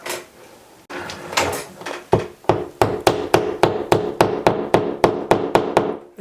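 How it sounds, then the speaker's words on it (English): Steady, evenly spaced hammer taps ring out close by, about a dozen sharp knocks in a brisk rhythm after some scraping, as a wall anchor is tapped flush for a smoke detector. "Let's grab a hammer, let's tap that in place."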